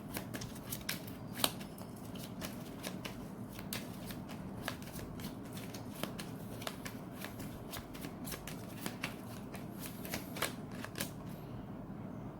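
Tarot cards are shuffled and drawn from a deck at close range, producing a continuous papery riffle and rustle punctuated by sharp snapping flicks as cards slide and slap together.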